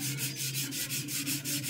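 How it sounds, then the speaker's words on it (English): Gentle sanding of a vacform plug with a fine sanding foam pad, soft rhythmic back-and-forth rubbing strokes repeating steadily, close and quiet. "I'm just very gently sanding the top"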